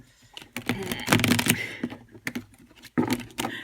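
Bursts of rapid, papery riffling and flapping as cards are shuffled close by, with short pauses between the shuffles.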